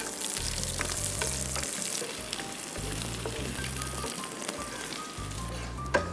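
Chopped garlic and onion fry in a pan, giving a continuous moderate sizzle over a low intermittent hum, with a small clack at the end.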